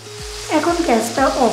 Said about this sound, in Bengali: এটাও হালকা নাড়াচাড়া করে নেব।